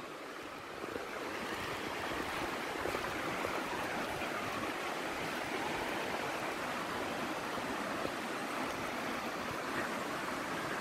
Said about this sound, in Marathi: 2-3 टप्प्यामध्ये आपण पाणी पडताना दिसत आहे।